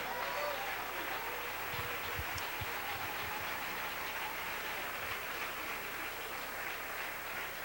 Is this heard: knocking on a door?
no